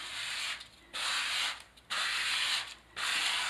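A plastic drywall spatula spreads Laticrete Hydro Ban waterproofing across a shower wall, making four rhythmic scraping strokes with short pauses between them.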